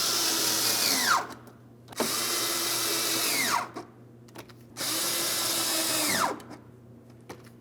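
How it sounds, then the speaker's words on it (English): Power tool tightening three bolts on a Ford Edge front inner fender liner: three sustained whirring bursts, each ending with a falling pitch as the tool spins down, separated by brief pauses and small clicks, close and loud. "Let's tighten these 3 bolts prior to making our way under the front bumper cover."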